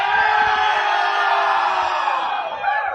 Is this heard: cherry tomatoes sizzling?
no